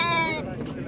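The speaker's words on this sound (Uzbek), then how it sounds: "Bo'g'oz to'qli qo'ylar." A pregnant ewe at the Qarshi livestock market bleats once, loud and close, a wavering harmonic cry of under half a second, followed by market murmur.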